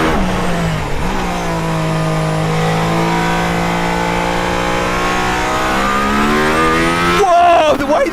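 A hypercar in hybrid street mode pulls hard on a race track, its engine note rising in a steady, loud climb for several seconds before a sharp shift near the end.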